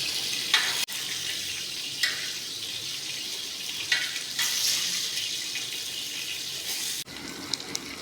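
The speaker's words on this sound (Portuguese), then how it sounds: "Fritando os hambúrgueres caseiros," Steady sizzling of homemade hamburgers frying on a hot griddle, with a few faint clinks and scrapes breaking through the continuous hiss.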